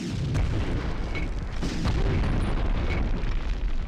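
Rocket explosions in Medal of Honor on PS1, set in a V2 rocket plant: loud, dense rumbling booms and bursts with a couple of sharper blasts, continuous battle noise with no talking.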